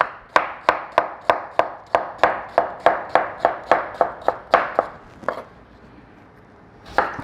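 A knife chopping radish or cucumber on a cutting board for salsa, about fourteen steady, evenly spaced close cuts, then a pause and one final chop.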